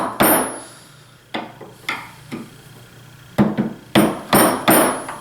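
A hammer taps a chisel, marking a line around a hex shape on a DIY thumb wheel. Sharp metallic strikes come close and loud, a few spaced apart and then a quicker cluster near the end.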